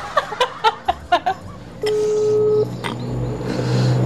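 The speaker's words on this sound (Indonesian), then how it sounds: "Kita telepon neneknya si Mak Lampir ya" A phone call to a grandmother opens with a quick run of about eight short dialing beeps, followed by one longer steady tone and then a low murmur of background noise.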